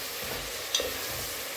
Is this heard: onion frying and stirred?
yes